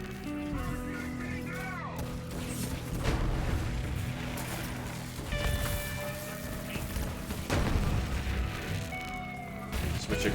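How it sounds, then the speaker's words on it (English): Radiation explosions from the Unkempt Harold gun in Borderlands 3, a continuous barrage of booming blasts and crashing impacts layered with in-game effects, loud and dense across the whole stretch. "those radiation explosions are so satisfying"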